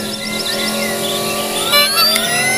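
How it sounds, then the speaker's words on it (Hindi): A fast car racing across a bridge in a video game during a jail escape, its engine whining at high revs with shifting pitch and brief tire squeals, loud and close, with no speech. "इतनी तेज गाड़ी हमारी"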